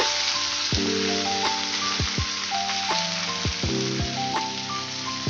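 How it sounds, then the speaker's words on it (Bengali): Radish greens dropped into hot tempering oil with garlic over a gas flame give a loud, continuous sizzle and crackle that fills the whole stretch, with no voices. "ফোড়নটা হয়ে গেছে বন্ধুরা এবার আমি দিয়ে দেবো এই মূলো শাক"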